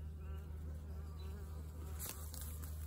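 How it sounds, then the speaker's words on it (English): A honeybee swarm hangs nearby, giving a dense, steady buzzing hum at close range with a few brief louder buzzes of bees passing the microphone. "That is where my swarm went to."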